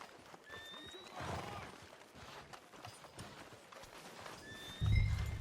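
A horse in the video game Red Dead Redemption 2 gives faint, brief neighs at the start and end over a street ambience with soft hoof clops and movement, at a moderate distance.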